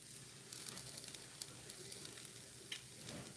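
Quiet, steady sizzling of leftovers risotto frying in a pan, with soft crackles and pops scattered through a faint hiss.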